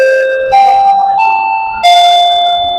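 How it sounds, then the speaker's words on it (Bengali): A wireless remote-controlled doorbell plays a short electronic tune of three stepped chime notes, loud and near, each tone ringing clearly with no talking over it. "যে বিভিন্ন রকমের সাউন্ড আছে, যেটা কলিং বেলের মূলত সাউন্ড,"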